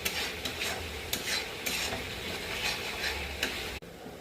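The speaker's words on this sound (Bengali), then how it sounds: "কষানো হয়ে গেলে ম্যারিনেট করা চিকেনটা এর মধ্যে দিয়ে দেবো। এটাকে আমরা ভালো করে কষিয়ে নেব।" Marinated chicken stirred and sautéed in a pan with ginger-garlic paste, onion and tomato for chicken biryani: a spatula scrapes and clatters in repeated strokes over a continuous sizzle, close and fairly loud, with one abrupt stop near the end.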